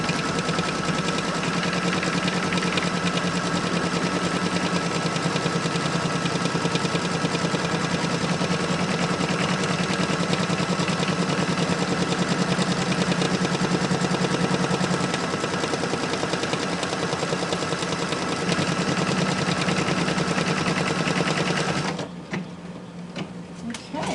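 A computerized sewing machine stitching out star applique on a Freedom quilt, a loud, steady, rapid mechanical chatter that runs continuously before stopping abruptly near the end.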